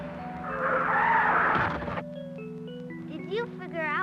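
Tires squeal and skid as a car comes down a street in a 1983 pedestrian safety film, a harsh screech lasting about two seconds, then music tones take over.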